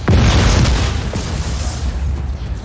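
A heavy explosion in Just Cause 4 as the wind cannon's rear intake van is blown up, with a loud, close opening boom followed by a second blast and a rumbling, crackling tail of debris that fades out slowly.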